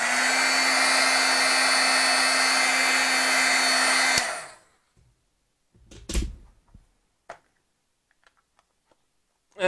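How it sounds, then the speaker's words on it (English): An embossing heat tool heat-sets stamped ink on birch vellum, giving a loud, steady blowing hum for about four seconds before it cuts off, followed by a few knocks and clunks in near silence. "let me see if we heat set that a little bit"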